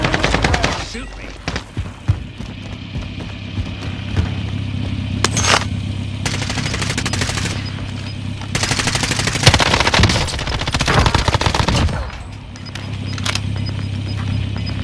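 Bursts of automatic gunfire in a Rebirth Island battle-royale game, with repeated rapid volleys across the clip, loud and close, some stretches of steadier firing, and faint voices in the background.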